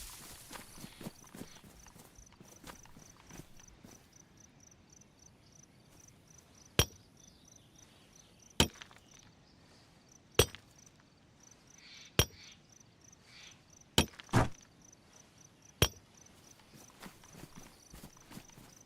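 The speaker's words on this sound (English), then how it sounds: "Sledgehammer." A sledgehammer drives nails while building a base: six sharp, loud strikes land at roughly even intervals over a quiet background of steady cricket chirping.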